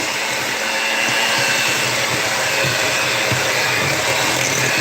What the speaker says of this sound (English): I hope y'all can hear me over this hand mixer here.